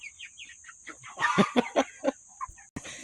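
Young farmyard chickens, cockerels and pullets, cluck and squawk in a string of short calls close by, with a burst of louder overlapping clucking in the middle and a brief clatter near the end.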